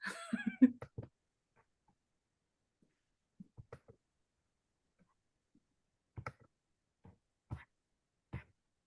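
Several sharp, isolated computer mouse clicks, close and fairly quiet, spaced irregularly across near silence after a brief cluster of clicks and soft noises at the start.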